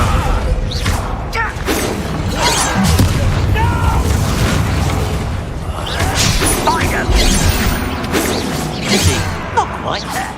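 Confringo spell explosions in the game Hogwarts Legacy on PS5: loud, continuous booming blasts and whooshes in a dense, chaotic mix, with a voice talking over the action.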